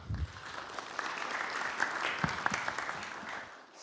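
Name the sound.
audience applause for the speaker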